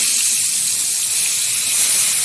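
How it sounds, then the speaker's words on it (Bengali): Salted rohu fish pieces frying in hot oil give off a steady, loud, unbroken hiss of sizzling, with no voices over it. "এখন আস্তে আস্তে তেলের মধ্যে ছেড়ে ভেজে নেব"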